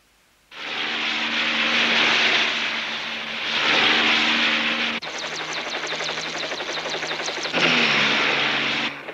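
Loud helicopter engines roar and whine in overlapping waves, with a rapid fluttering beat coming through in the middle before the noise swells again.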